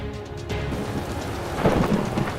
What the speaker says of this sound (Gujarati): વહેલી સવારથી મંડાયેલા મેઘાએ ધડબડાટી બોલાવી દીધી